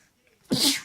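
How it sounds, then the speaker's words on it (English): A single sharp sneeze bursts out after a moment of near silence, close and loud. "I'm about to sneeze"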